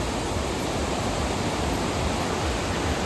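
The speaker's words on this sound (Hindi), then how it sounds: "ये देखो नीचे रिवर जा रही है" River flowing beneath a road bridge on a mountain route toward Kasol, a steady broadband rush of heavy water filling the whole stretch evenly with no talk.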